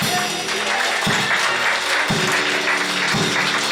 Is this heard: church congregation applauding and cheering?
yes